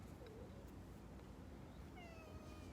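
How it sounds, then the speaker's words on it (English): A cat meows a few times, the faint tonal calls drifting over steady indoor background noise with no talking. "And here comes a cat."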